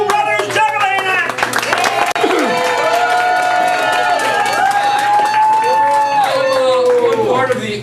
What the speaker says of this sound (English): Ladies and gentlemen, please a round of applause for K-Mo and Mo Brothers Juggling Act.